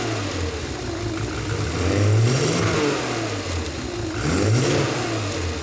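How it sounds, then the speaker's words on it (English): A car engine fitted with Lucas mechanical fuel injection being revved twice, each blip rising and falling in a smooth swell over a steady idle, close and fairly loud with no talk. "So as I rev it up,"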